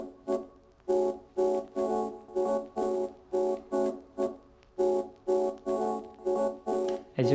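Chopped Splice synth sample replayed via MIDI in a deep house track: rhythmic, evenly spaced stabs pulse in a steady groove, each short chord bright and clear, with no talking over them.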